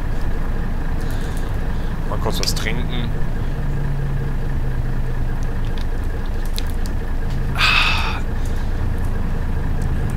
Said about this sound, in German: Schon mal Motor warm laufen lassen.